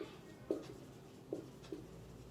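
Pen strokes scratch faintly on paper in a few short, separate bursts, very quiet and close, with no talk over them.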